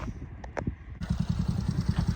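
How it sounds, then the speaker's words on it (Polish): A small moped engine starts up with a short cranking rattle, then catches and settles into a steady, close, buzzing putter. "To co, odpalamy i zobaczymy e, jak jeździ."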